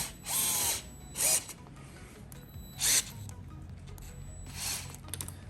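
A DeWalt power tool tightens a clamp during a YFZ450 rebuild, running in several short bursts of whirring and ratcheting, with quieter pauses between them and no talk.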